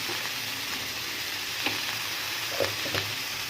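Okra and pumpkin frying in a pan with turmeric and salt, a steady close sizzle broken by a few scraping stirs and soft knocks of a utensil, with no talk.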